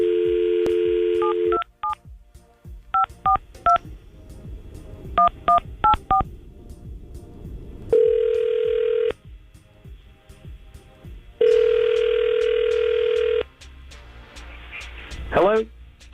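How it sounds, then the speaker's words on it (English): A run of telephone keypad tones beeps in quick groups, then steady ringing tones sound twice with pauses between, clear and close. "we're going to try to call Ethan right now and see if we can get him on the phone"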